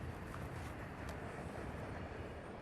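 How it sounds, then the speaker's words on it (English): A passing train rumbles steadily and loudly throughout, a dense broadband roar with no break and no talk over it. "Okay, we have to wait for the next train."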